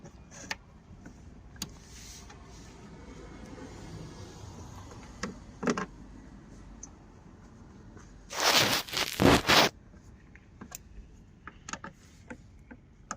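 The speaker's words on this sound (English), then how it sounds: "now we're going to throw our screws back in here" Screws are driven back into the tail light of a 2019 Subaru Impreza with a power driver. It gives a short burst of whirring and ratcheting amid scattered small clicks and taps, close and fairly quiet, with no talking.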